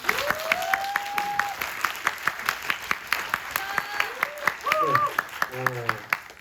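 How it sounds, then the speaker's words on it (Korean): Audience applause at a press event for the Netflix film Carter: fairly sparse, rhythmic claps from a modest crowd, with voices sounding over them. "박수 한번 쳐주세요."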